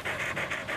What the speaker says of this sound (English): Dogs don't sweat like we do. They lose water by panting.